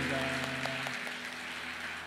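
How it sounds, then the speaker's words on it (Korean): Congregation clapping together in a church during an afternoon worship service with a baptism ceremony, a dense, steady wash of many hands filling the room, with some tonal murmur underneath early on. "우리 뜨거운 박수로 축복해 주시면 감사하겠습니다."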